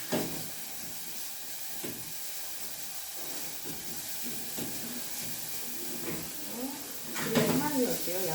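Onions sauté in a pan for tomato seafood spaghetti, giving a continuous hissing sizzle throughout, with a person speaking over it toward the end.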